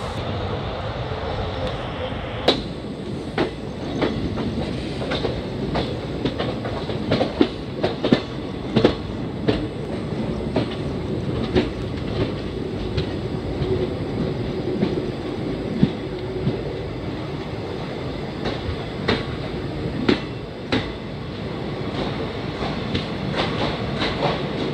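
Kannur Express train running from Yesvantpur toward Mangalore, heard from inside a sleeper coach: a steady low rolling rumble broken by frequent sharp clicks and clacks of wheels over rail joints, sustained throughout.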